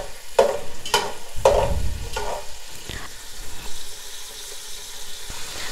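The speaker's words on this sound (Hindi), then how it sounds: "कुकिंग ऑयल गर्म हो चुका है तो अब इसके अंदर थोड़ा सा ये जो मेवा है इसको फ्राई करेंगे" Dry fruits and nuts fry in hot cooking oil for kabli pulao, a few bursts of sizzling with spoon stirring scrapes at the start, then a softer steady crackle as the frying settles.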